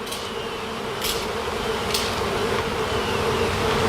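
Dense, steady buzzing of a bee swarm inside a shed, loud and continuous, with a few brief bursts of hiss layered on top.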